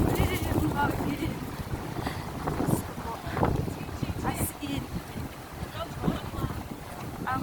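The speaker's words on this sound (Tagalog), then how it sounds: "Guys, ang hangin! Ay, grabe! Ang hangin!" Strong wind gusts blowing outdoors on a city street among buildings, a steady broadband roar buffeting the microphone throughout, with a person speaking over it.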